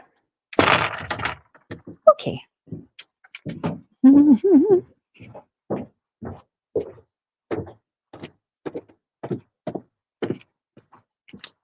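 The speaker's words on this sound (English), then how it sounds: "Gotta close the door." A door pulled shut on the way out to a forest yard lands as a single loud, close thunk near the start, followed by a run of short scattered knocks and bits of speech.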